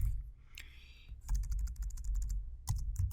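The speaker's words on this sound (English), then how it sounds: "I'll type in 2019 budget" Keys tapped on a computer keyboard while entering a chart title in Excel, a quick run of crisp clicks after a short pause, close and clear with no talking.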